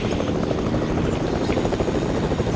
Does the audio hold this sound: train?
no